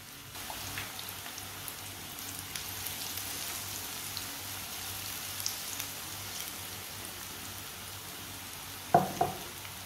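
Kebabs fry in oil in a pan over a lowered flame, a faint, steady crackle and sizzle running throughout, with a brief louder clatter near the end.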